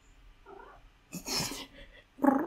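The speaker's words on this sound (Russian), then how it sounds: "Кот." A cat vocalizes in a few short bursts, a soft mew followed by louder, drawn-out meows, close by in a quiet room.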